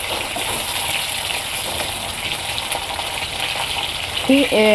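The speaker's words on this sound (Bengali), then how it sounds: "পুরটা ভরে নিছি, নিয়ে তারপর ভাজছি।" Stuffed pointed gourds (potol) sizzle in a frying pan with a steady, close hiss that stays even throughout, ending in a brief clink near the close.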